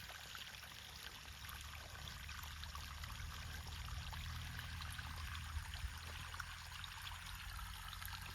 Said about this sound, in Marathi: पाणी सोडलं आता त्यांनी घरातनच सोडतो एकदम ऑटोमेटेड केलं त्यांनी